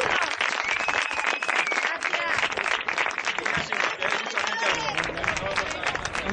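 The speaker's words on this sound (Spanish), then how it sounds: "Este aplauso para vosotros." An audience at the farewell and closing ceremony of a Cañete historical festival applauds loudly and continuously, a dense wash of clapping with voices mixed in.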